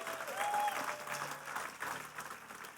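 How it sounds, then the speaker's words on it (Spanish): A church congregation applauds at a sermon, with sustained clapping from a crowd that peaks early and then gradually thins out. "Dale un aplauso fuerte a Jesús"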